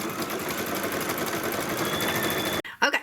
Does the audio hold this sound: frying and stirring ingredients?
no